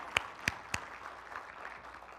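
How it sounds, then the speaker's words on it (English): A church congregation gives a guest speaker's wife a few sparse claps: three sharp, distinct hand claps in quick succession, then quiet room tone. "Can we give her at least two claps?"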